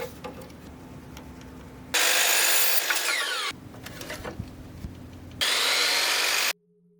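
Power saw cutting 1x2 by 8 foot wooden furring strips into 37-inch pieces: two loud, sustained cutting bursts with a quieter running hum and handling noise between them, then an abrupt stop.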